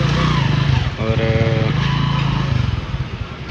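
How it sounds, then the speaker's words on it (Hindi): Motorcycle engine starting up at a temple stop, a steady loud rumbling idle that fills the scene while people talk over it nearby. "बाइक स्टार्ट कर रहा है मेरे वाला"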